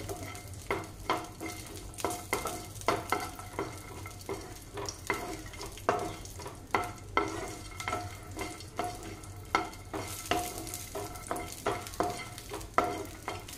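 Makhana (fox nuts) are roasted in ghee until crisp, with a steady soft sizzle and repeated rhythmic scraping and stirring in the pan.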